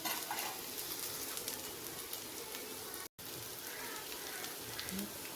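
Cauliflower and peas fry in a pan with a soft, steady sizzle and crackle, low in level and continuous apart from a brief dropout.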